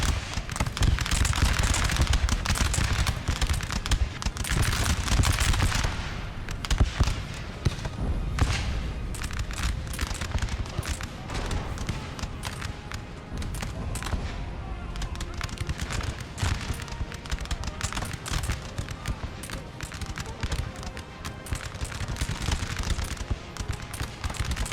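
Repeated cannon fire in the Napoleon Total War game pounds a building, with dense rapid booms and thuds overlapping continuously at a loud, steady level throughout.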